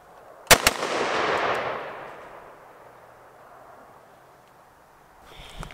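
Two sharp gunshots fired in quick succession at targets on an outdoor training range, each crack followed by a long fading echo that rolls away over several seconds.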